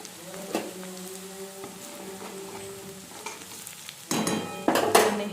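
Frying in oil in a pan for pav bhaji, a continuous crackling sizzle with a few stirring scrapes, swelling louder and busier toward the end, close and without talk.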